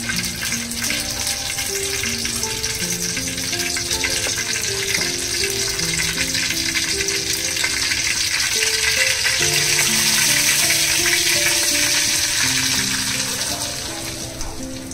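Oil with red chilli powder, garam masala and coriander powder frying for Kutchi dabeli masala, a constant loud sizzle and bubbling with stirring rattles while someone talks throughout.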